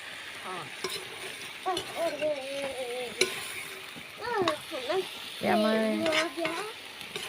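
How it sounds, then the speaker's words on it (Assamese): Vegetable bhaji sizzling and being stirred in a frying pan, a steady soft frying hiss with occasional scrapes, while voices talk over it throughout. "এয়া মই ভাজি বনাই আছোঁ"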